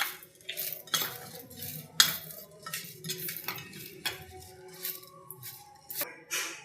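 A spoon clinks and scrapes against a bowl as date chutney ingredients with cumin, salt and sugar are mixed, giving a close, irregular run of metallic taps and stirs with no talking.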